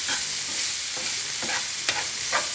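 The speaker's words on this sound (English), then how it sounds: "Brown those onions, and it gives off the best flavor." Browning onions sizzle steadily in a pan while a utensil scrapes and stirs them about four or five times in an uneven rhythm, close and fairly loud.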